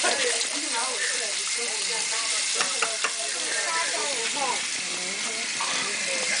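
Warm water is poured over a child's head during hair washing, making a continuous splashing gush close by, with voices talking over it throughout.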